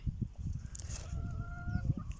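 A rooster crows at a moderate distance over low, continuous clucking and scratching farmyard noise.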